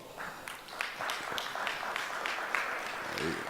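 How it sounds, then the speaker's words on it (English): Audience applause at a trade open house with African government representatives and trade associations: a dense round of clapping from a crowd, steady and fairly loud, with a voice speaking faintly through it. "please help me give her a big round of applause."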